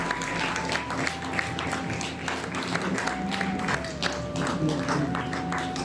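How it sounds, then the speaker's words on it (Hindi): Audience at a spiritual tribute gathering clapping steadily together, a dense sustained patter over a soft sustained musical tone, moderately loud and without talk. "कृपया जोर से तालियां बजाएं।"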